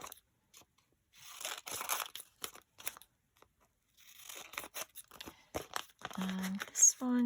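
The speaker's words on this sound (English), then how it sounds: "And we can just cut it smaller." Paper being cut with scissors while making a faux envelope pocket for a junk journal, with close crinkling and snipping bursts in uneven runs, some stretches overlapping quiet talk.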